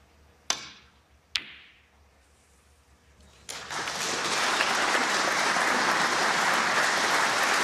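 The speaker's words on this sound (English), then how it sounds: "Wonderful shot. Greatly appreciated by the crowd." Two sharp, isolated knocks of snooker balls are followed by a swelling wave of crowd applause in the arena that rises and holds steady, loud and continuous.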